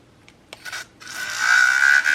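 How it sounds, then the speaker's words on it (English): An electric hand mixer with a powerful frother-style attachment whips soap lather, starting with a few brief taps and then settling into a steady, fairly loud whirring hiss that runs close by without talk. "I thought this might be better than the kind of whisk frother that you see usually on these"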